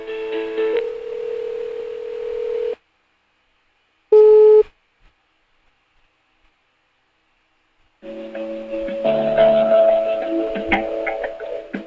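Telephone line tones while a call connects: a steady tone, then silence broken by a short beep, then another longer warbling tone, all clear and close.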